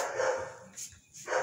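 Dogs bark close by in a few loud, overlapping bursts separated by short pauses, with no one speaking.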